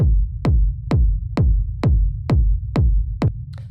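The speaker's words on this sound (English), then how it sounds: "It's just like your kind of standard sort of like techno rumble kick." Eight evenly spaced dark techno rumble kick drum hits at 130 BPM, each a punchy thump with a deep booming low tail, played alone and loud.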